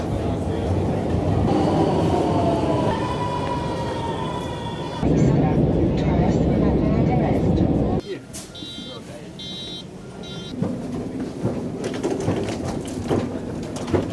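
A metro train rumbles loudly in a Milan metro station, its motors whining in rising tones, then the noise drops and a buzzer-like chime sounds as the carriage settles.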